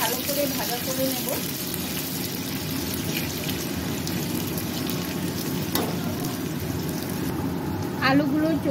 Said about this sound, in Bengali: মিষ্টি কুমড়াগুলো একটু ভালো করে ভাজা করে নেব